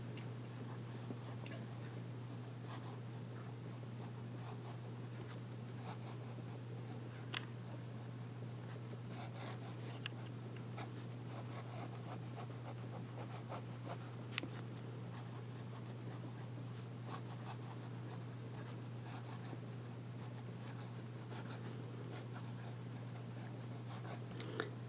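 A Schneider fountain pen with a smooth, wet nib writes and swirls on paper, producing faint, scattered scratches and light ticks over a low steady hum throughout, with no voices.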